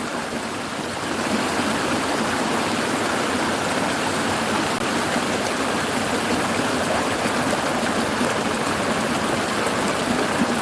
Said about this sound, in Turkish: Hemen şehir merkezinin içinde böyle küçük bir şelale.